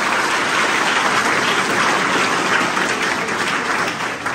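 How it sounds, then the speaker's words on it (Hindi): A lecture audience breaks into loud, sustained applause, thick and continuous, easing off slightly toward the end. "जोरदार ताली अपने लिए।"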